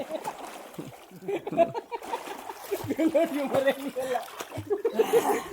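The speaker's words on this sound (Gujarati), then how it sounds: "મારો ભાઈ એ પાણી નો ઉડાડતો બહુ" Water in a swimming pool is splashed in short, uneven bursts close by, mixed in with lively voices talking and chuckling throughout.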